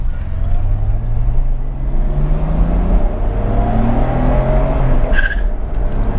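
An R32 Nissan Skyline GT-R driven hard in traffic: a loud, close engine drone climbs steadily through the gears, with a brief tyre squeal near the end.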